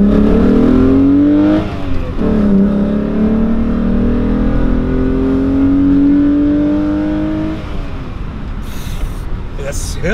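VR6 engine in a Cabrio revving inside a tunnel, loud and close with echoing rises in pitch, a brief dip near two seconds, then fading toward the end while voices talk over it.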